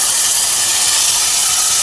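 Loud, steady hissing sizzle of spice paste hitting hot oil in a pan while cooking a bhetki fish bone chorchori, a continuous close, bright spitting fry with no pauses.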